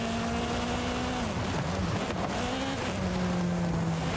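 A car engine drones in a Forza Horizon 5 race, its pitch holding high, dipping through a shift, then rising again, with tyre and road noise underneath.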